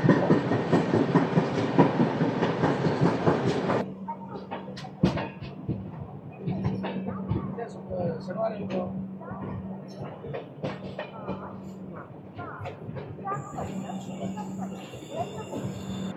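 Janmabhoomi Superfast Express slowing through Anaparthi station: a loud rushing rumble that cuts off abruptly, then rhythmic wheel clicks and a low steady hum with brief metallic squeals, under faint voices.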